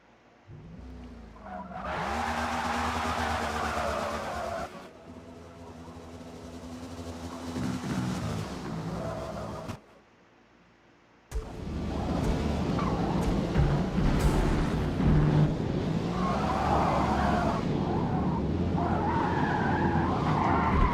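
A race car in the video game Forza Motorsport spins and skids with long, loud tire squeals over engine roar: one smear lasting several seconds, a brief silent break, then a sustained, rougher stretch of sliding and revving.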